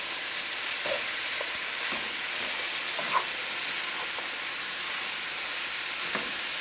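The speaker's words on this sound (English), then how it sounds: "let's get the rest of the cabbage in there and mixed up really good" Cabbage frying with salt, pepper and garlic in a pan, a steady broadband sizzle throughout with a few soft utensil taps as it is stirred, close and even, no voices.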